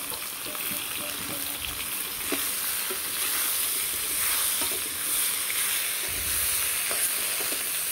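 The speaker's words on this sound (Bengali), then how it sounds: "এখন এই কলাগুলো ছেড়ে দিম এর মধ্যে" Plantain pieces and potatoes sizzle steadily in a frying pan, a continuous hiss with occasional soft stirring clinks and scrapes, close and moderately loud with no talking.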